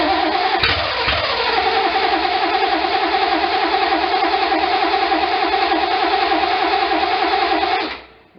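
A 1972 Triumph TR6 engine catches after a brief crank and settles into a loud, steady run with no exhaust fitted. The harsh, rough drone holds for about seven seconds and then cuts off abruptly.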